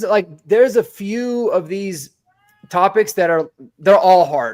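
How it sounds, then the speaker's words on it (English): A pet cat meows repeatedly in the background indoors, its calls mixed in beneath someone talking steadily in the foreground, with a short pause in the middle. "that's my cat meowing in the background"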